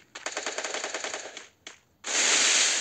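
Rapid automatic gunfire from the Free Fire clash squad video game rattles off in a fast burst and stops. A single shot follows, then a loud sustained rushing blast closes the clip.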